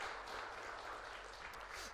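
A church congregation applauds a Messiah choir ensemble after worship, steady broadband clapping from many hands filling the sanctuary for about two seconds, moderately distant with no voices over it.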